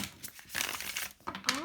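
Tarot cards shuffled by hand in a few quick riffling and crinkling bursts, close and moderately loud, with brief pauses between passes.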